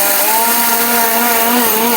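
Electric mixer grinder (mixie) running in a home kitchen while making sweet vadas: a loud, steady motor whine with a constant droning pitch for the whole stretch, with no talking.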